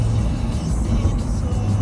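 A Chevrolet Corvette drives along, heard from inside as a steady low engine rumble and road noise with no distinct revving.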